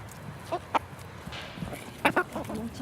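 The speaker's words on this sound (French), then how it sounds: "Mon petit poulailler avec 9 poules." A small backyard coop of nine hens gives off scattered soft clucks and short calls, close by and fairly quiet, against a low background murmur.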